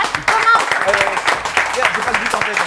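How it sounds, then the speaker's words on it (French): An audience claps in a steady, dense patter for Vanessa Lemoine at a live football-themed show, with a voice talking over the applause throughout. "Applaudissements, s'il vous plaît, pour Vanessa Lemoine"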